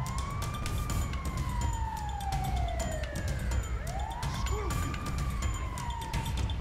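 A police car siren in GTA 5 wails in long rising and falling sweeps, clear and fairly close, with a brief dip before the tone climbs again over a low rumble of traffic.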